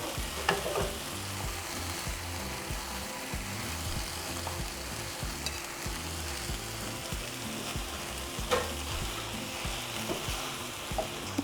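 Queso Oaxaca and vegetables frying in a pan as chile relleno stuffing, a steady close sizzle with scraping stir strokes running throughout and no voices.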